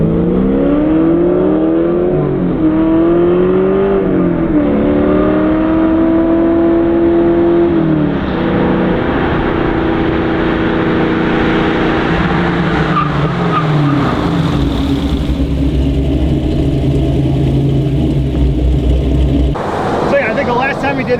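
A 2004 Pontiac GTO, fitted with upgraded 2005-06 brakes, stops hard from 70 mph. Loud tire squeal wavers and rises over steady road and engine noise, then dies away as the car comes to rest.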